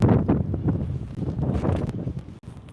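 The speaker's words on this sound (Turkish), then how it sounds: "Hava yağmurlu ve rüzgar da var." Wind gusts buffet the microphone with a low, rumbling roar that rises and falls over a few seconds, at a stadium's away-stand entrance on a rainy day. No one speaks.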